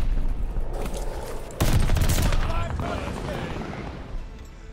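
Bursts of gunfire and booming blasts in the Call of Duty: Vanguard video game, with a loud burst of shots partway through over continuous battle noise.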